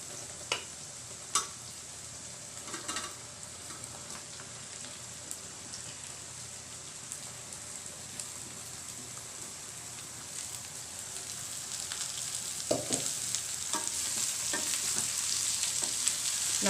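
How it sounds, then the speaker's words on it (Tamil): Brinjal pieces and golden-browned onions sizzle and fry steadily in an oil pan, with a constant hiss broken by occasional clacks of a spatula stirring, close and fairly loud, no talking. "இப்போ கத்திரிக்காயை நான் போட போகிறேன்."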